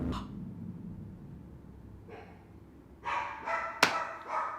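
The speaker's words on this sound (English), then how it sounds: "Now my dog is barking." A pet dog barks indoors in a few short, separate woofs spaced over several seconds, the later ones louder and closer, with a sharp peak near the end.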